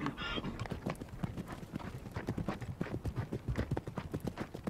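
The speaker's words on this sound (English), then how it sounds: "such as the Asiatic wild ass," Hooves of an Asiatic wild ass clip-clop on desert ground in the Negev, a rapid, steady, close run of hoof beats that grows more distinct toward the end, with no voice over them.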